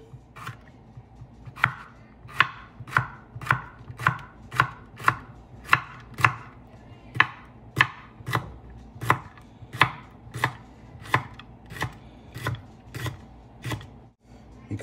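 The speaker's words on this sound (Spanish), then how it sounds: "Picamos el chile." A knife chops chili pepper on a board in about twenty crisp, evenly spaced strokes, close and clear with a faint room hum underneath and no speech.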